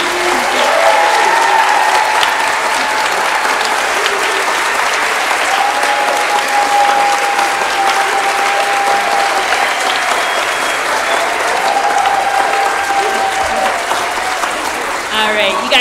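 A crowd at an elementary school music evening gives a long round of steady, loud applause, a dense sustained wash of clapping with a faint voice or two underneath.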